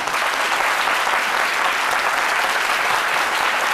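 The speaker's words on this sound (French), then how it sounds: "je voudrais commencer par lui, Aloussène Sidibé, que je vous demande d'applaudir." A TV studio audience at a French midday talk show applauds a guest, producing a steady, full wash of clapping at even loudness from start to finish.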